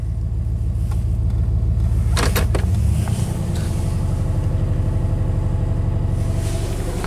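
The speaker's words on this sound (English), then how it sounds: "Let's see how it idles." A classic Chevy engine idles steadily with a deep, continuous low rumble and a brief rise in the middle, close and loud with no one talking.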